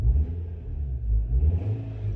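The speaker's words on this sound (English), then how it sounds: "give the car a few revs," A 2002–2006 Nissan Altima 2.5 engine revs up at close range during radiator work, with a deep, rumbling surge that swells and then eases back. There is no talking.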